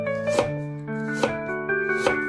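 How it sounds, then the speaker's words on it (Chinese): A kitchen knife slices a piece of peeled fresh ginger into thin slices on a cutting board, with three crisp chopping knocks spaced evenly and close, no talk. "准备一块去了皮的生姜， 切成薄片。"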